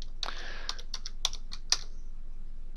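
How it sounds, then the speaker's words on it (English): Arrow keys on a computer keyboard are pressed in a quick series of crisp, close clicks, about a dozen taps in under three seconds with an uneven rhythm and no talking. "I'm using the left arrow on the keyboard."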